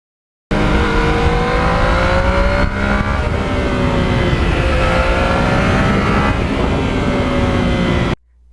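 A Yamaha MT-09 motorcycle engine under way while riding, a loud, steady close-up drone with shifting revs and wind rush, running continuously before cutting off near the end.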